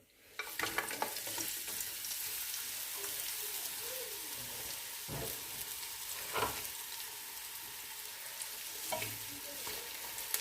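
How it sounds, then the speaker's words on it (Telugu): Thinly sliced onions for mutton pulao fry in hot oil with a constant bright sizzle, while a spoon stirs them in several distinct scraping strokes at a moderate distance, with no speech. "ఈ ఉల్లిపాయల్ని మంచిగా బ్రౌన్ కలర్ వచ్చేంత వరకు ఇట్లా కలుపుతూ వేయించుకోవాలి."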